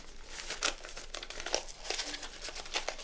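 Stiff wrapping paper crinkles and crackles in close, loud bursts as a gift package, apparently a thin paperback, is unwrapped, with irregular rustling pulses and no speech.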